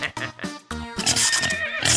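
Horses whinny and snort in a short burst of loud, overlapping animal calls, close by with no talking.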